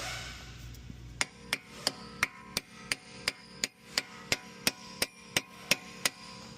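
A hammer strikes a punch against the axle nut of a 2024 Nissan Sentra in a steady series of about sixteen sharp metallic blows, close and evenly spaced at roughly three per second.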